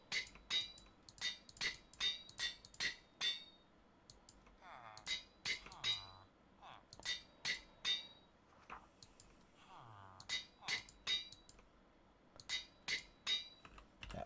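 Repeated metallic clinks of an anvil in Minecraft (All The Mods 9), coming in quick bursts of sharp strikes separated by short pauses, with brief softer game noises in between.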